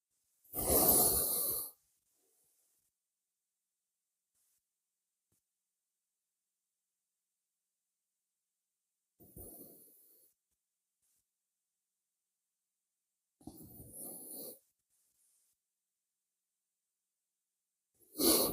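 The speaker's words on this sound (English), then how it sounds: "breathing in as you come up and exhale as you come down" Slow breaths drawn in and let out during a yoga sun salutation, soft airy sighs near the microphone, separated by long silent pauses.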